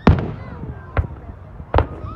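Fourth of July fireworks in Fernley, Nevada pop and crack in three sharp, separate bursts, fairly close, with quiet crackling between them.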